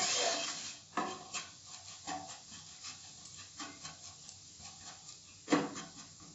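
Spice masala being stirred and sautéed in oil in a pan while cooking a Konkani chicken curry, heard as a series of scraping, clattering spoon strokes at irregular intervals, one sharper knock near the end, with no voices.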